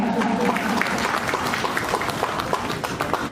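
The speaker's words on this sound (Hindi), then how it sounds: "तालियां आपकी ओर से लगातार हो।" Audience clapping at a government ceremony where the Jharkhand chief minister hands out benefits, a sustained mid-sized round of applause with scattered distinct claps that thins slightly toward the end.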